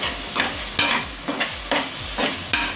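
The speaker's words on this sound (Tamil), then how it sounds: "இப்போ இந்த மசாலாலாம் ஒன்று கலக்கிற அளவுக்கு நல்லா வதக்கி விடலாம்." Tomato masala gravy for vada curry being stirred and sautéed in a pan, sizzling close up with rhythmic scraping strokes of the spoon roughly every half second.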